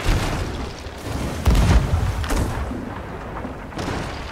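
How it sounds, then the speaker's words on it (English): Ship cannons booming during a galleon sea battle in an online pirate video game, several heavy, rumbling blasts in quick succession, loud and close, with a chaotic rush of noise between them. "Shoot primary cannon if you can."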